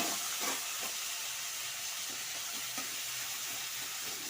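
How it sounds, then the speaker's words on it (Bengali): Fish frying in hot oil in a pan sizzles in a steady, loud hiss, with occasional soft pops and stirring clicks, no voices. "মাছ ভাজা বসিয়ে দিয়েছি"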